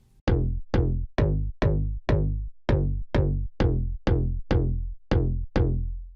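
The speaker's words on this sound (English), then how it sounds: "Bass Bruno is pretty dope and it's a little bit harder and it sounds like this." Bass Bruno, a harder synth bass preset for tropical or chill house, plays a steady run of about a dozen punchy plucked notes, bright at each attack and then quickly decaying. The notes are loud and close, with no voices.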